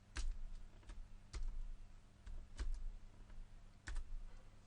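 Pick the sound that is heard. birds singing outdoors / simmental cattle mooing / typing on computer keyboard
typing on computer keyboard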